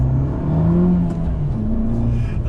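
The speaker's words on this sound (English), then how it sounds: "that Akrapovic exhaust, listen, oh man" A new Abarth 595 Esseesse fitted with an Akrapovic exhaust revs near Turin, its deep, steady engine note holding loud and close, rising and settling through several swells with no one talking.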